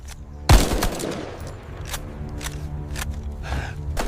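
A burst of gunfire from enemy troops cracks loudly at the start, followed by a dense rattle of scattered shots and echoes that continue under a busy battlefield din.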